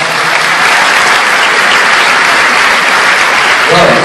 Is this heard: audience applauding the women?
yes